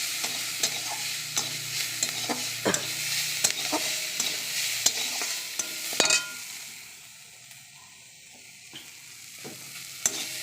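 Five-spice, green chilli, onion, ginger and garlic frying in oil in a wok, a soft steady sizzle broken by sharp clinks and scrapes of a spoon stirring, quieter for a moment near the end.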